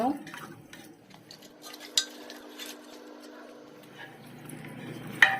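Metal utensils scrape and clink against a pot as beef with chana dal and water is stirred, with a couple of sharper knocks and a soft steady hum beneath.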